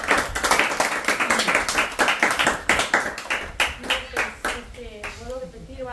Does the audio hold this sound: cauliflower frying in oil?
no